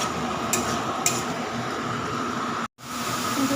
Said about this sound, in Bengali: ভালো করে কষিয়ে নেব আমি